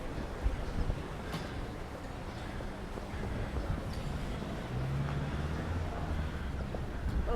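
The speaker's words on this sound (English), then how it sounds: "It's just windy." Steady wind gusting across an open space in Palmanova, Mallorca, a continuous rumbling blow with muffled buffeting at the microphone and no clear voices.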